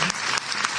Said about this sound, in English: That's a line for applause.